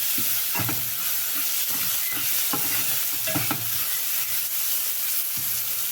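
Onions frying in oil already tempered with mustard seeds, urad dal, ginger and garlic, a continuous close sizzle punctuated by repeated stirring scrapes at an uneven rhythm, with no voices.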